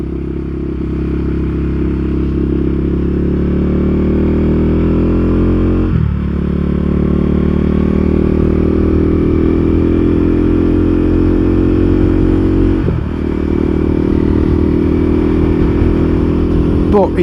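KTM 390 Duke single-cylinder motorcycle riding a Yorkshire country road, its engine holding a loud, steady mid-pitched drone close to the mic, with two brief dips where the rider shifts gear before the note settles again.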